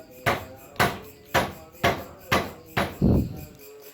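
A hammer knocks on a motorcycle disc brake caliper piston, seven sharp metallic strikes at a steady rhythm, close and loud, the last blow heavier and duller.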